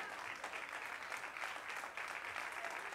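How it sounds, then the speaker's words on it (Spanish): A church congregation applauds to God in a dense, even patter of many hands, heard somewhat distant and quiet throughout. "Fuerte el aplauso a Dios."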